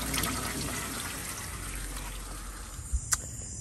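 Water and coolant flushing out of the cooling system of a 1966 Jaguar E-Type roadster: a soft, continuous splashing trickle with a couple of small knocks near the end, quiet and without speech.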